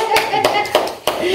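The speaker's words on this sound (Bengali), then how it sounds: "একবার জোরদার তালিয়া হয়ে যায়" A crowd of people clapping in bursts of applause at an eco-resort by the mangrove forest in Odisha, close and lively, with voices chattering underneath.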